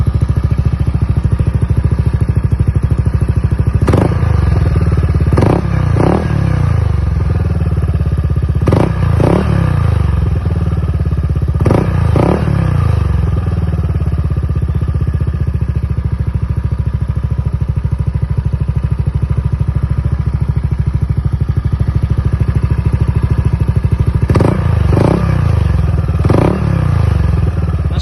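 A Yamaha NMAX or Aerox scooter fitted with a TSMP exhaust idles steadily, then is revved in short bursts, several sharp throttle blips grouped in clusters, loud and close.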